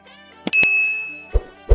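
A bright notification bell dings once with a long ringing tail, followed by a couple of softer chime hits, clean and close with no talking.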